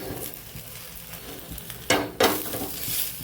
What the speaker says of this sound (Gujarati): થોડું તેલ લગાવી દઈશું ઓછા તેલની અંદર આપણા ચીલા બની જાય છે